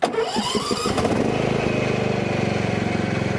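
A Cub Cadet riding lawn mower engine cranks briefly, catches and settles into a loud, steady, close-up idle with a fast regular putter and no talking.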